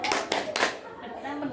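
A group performs the P2K2 clap routine at a family capability-building meeting, with a few loud, rhythmic hand claps in quick succession mixed with children's and adults' voices.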